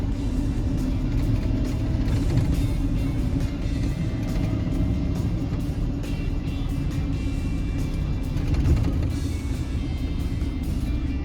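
A pickup truck drives up a gravel road known as Pipeline Road toward a gravel pit, with a steady, close engine rumble and broad road and tire noise running continuously throughout.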